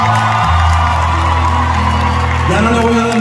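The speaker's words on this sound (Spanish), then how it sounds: "Un aplauso para Jesucristo," A packed concert crowd at the United Palace in New York cheers and shouts loudly and continuously, a dense roar mixed with sustained low musical tones from the stage.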